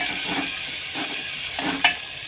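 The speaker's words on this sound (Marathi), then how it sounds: "टोमॅटोसुद्धा छान परतून घ्यायचं आहे मस्त अगदी गाळ करून घ्यायचं आहे तेलामध्येच छान फ्राय करायचं आहे" Chopped tomato frying in oil for dal tadka, with a soft continuous sizzle and a few gentle stirring scrapes spaced through it, one sharper clink near the end, and no talking.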